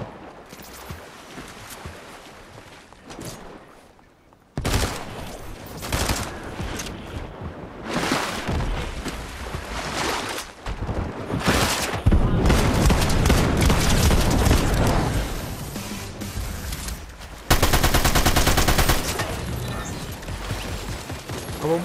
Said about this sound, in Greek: Ναι, κάποιος πυροβολάει από πάνω.